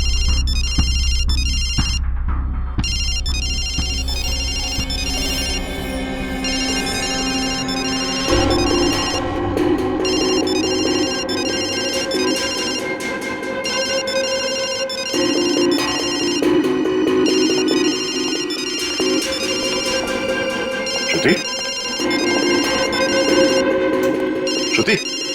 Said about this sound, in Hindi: पायल का ये फोन, इसका रिंगर, ये ट्रिगर है